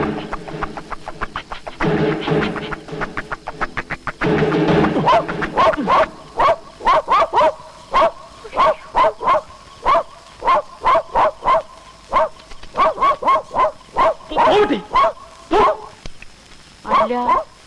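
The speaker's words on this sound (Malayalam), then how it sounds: "ഇതെന്താ ഈ പട്ടി അവിടെ തന്നെ നോക്കി കുറയ്ക്കുന്നത്?" A dog barks repeatedly in quick bursts, near and loud, with rapid yips early on and spaced barks later, while people talk over the first few seconds.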